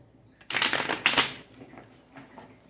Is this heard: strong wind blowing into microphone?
no